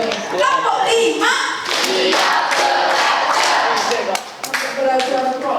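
An audience at a seminar on bullying and drug abuse prevention claps in a quick rhythmic group cheer, loud and close, mixed with voices shouting along.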